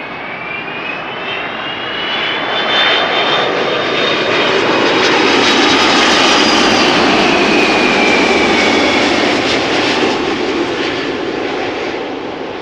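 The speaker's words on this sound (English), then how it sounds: "Delta Airlines Flight 136 arriving from Detroit." A Delta Airlines jet from Detroit lands close by at a large airport, its engines swelling into a loud, sustained roar as the thrust reversers deploy, with a whining tone above the broad rush and no talk.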